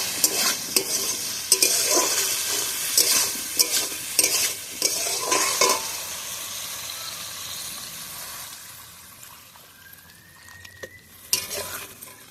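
Potato and masoor dal bori curry is stirred and fried in a pan: about six seconds of loud, rhythmic scraping and clattering over a sizzle, then a quieter stretch and one more brief scrape near the end.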